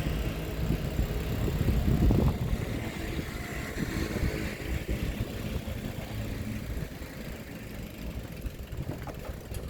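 Motorbike engine on a ride home from university, a continuous droning hum with wind rush that swells early then settles into a steady, fairly close roar.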